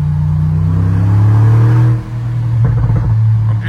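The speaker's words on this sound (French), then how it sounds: "l'échappement il est sur le côté, donc on l'entend directement ici" A Mercedes G-Class with side-exiting exhaust, heard close up outside town, gives a loud, deep droning roar that builds under acceleration, dips briefly, then surges again with a rising rasp.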